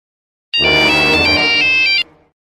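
Phone ringtone sounding on an outgoing call, one loud, clear electronic warbling tone lasting about a second and a half, close to the microphone, then cutting off abruptly.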